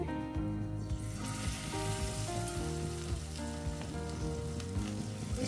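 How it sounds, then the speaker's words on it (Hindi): Paneer pieces fry in hot oil for a restaurant-style chilli paneer, giving a steady, loud sizzle that carries on throughout under continuous background music. "अब इसमें हम एक एक करके पनीर डालेंगे।"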